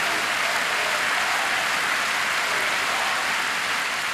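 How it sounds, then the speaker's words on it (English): Steady applause from a table tennis crowd at a China versus Germany team match at the 2006 world championships, a dense continuous clapping wash that stays level throughout with no voices over it. "Crowd trying to lift him"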